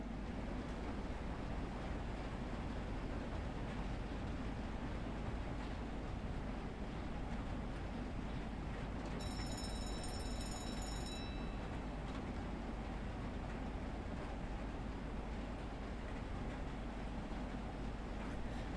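A steam train runs in Train Sim World 3 on the Edinburgh to Glasgow line, heard as a loud, constant roaring rumble from inside the cab, with a brief high whistling tone partway through.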